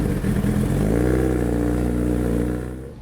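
A Suzuki Hayabusa sport motorcycle revs and accelerates with a rising, rough engine note that builds quickly, holds loud and close, then drops off near the end.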